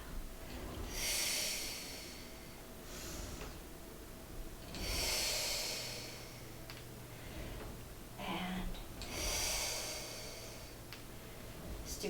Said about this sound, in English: I inhale.